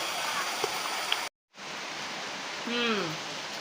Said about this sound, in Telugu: ఇలా అయితే ఉంది వర్షం